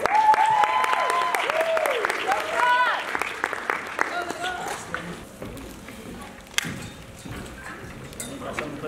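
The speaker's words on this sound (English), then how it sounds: "Give him a round of applause." A room of people applauds at a university art showcase, scattered clapping under a speaking voice early on, then thinning into lighter, sparser claps and murmurs.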